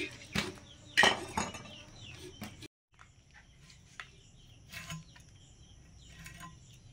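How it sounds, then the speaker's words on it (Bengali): Taro stolons (kochu loti) are cut by hand in a home kitchen with a few sharp metallic knife chops early on, followed by quieter scraping and tapping, with insects chirping faintly in the background. "আমি এদিকে কচুর লতিগুলো কাটছি, আর সুস্মিতা ওদিকে মাছ কাটা শুরু করেছে।"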